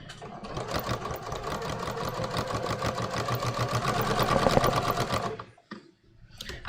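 A sewing machine stitching floral linen shorts runs in a fast, even chatter for about five seconds, close and clear, then stops abruptly and gives a short final burst.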